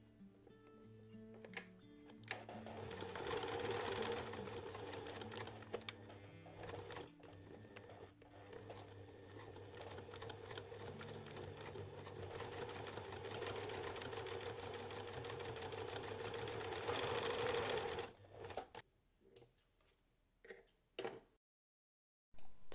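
A sewing machine stitches the side seam of a small quilted zipper pouch, running in a steady, fast mechanical rattle for about fifteen seconds before slowing into a few short bursts and stopping, close and clear with no talk.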